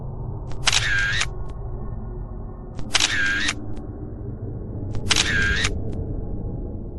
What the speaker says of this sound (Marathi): खोलीच्या प्रत्येक कोपऱ्यातून फोटो काढण्याचा आवाज यायला लागला